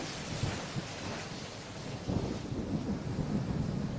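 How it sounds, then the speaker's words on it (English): Steady heavy rain hisses across the whole clip, with a low rumble like distant thunder and a surge in intensity partway through. "with all that rain that's pouring on the tracks right now"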